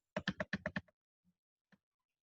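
Fingers type on a computer keyboard in a quick burst of six or seven crisp key taps, then two isolated presses after a pause, close and alone.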